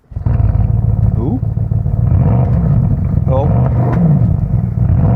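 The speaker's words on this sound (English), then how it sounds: "Let's start it up and give it some revs." A Porsche Panamera engine fires up and is revved while stationary, a loud close burbling idle rising in several throttle blips, with brief exclamations over it.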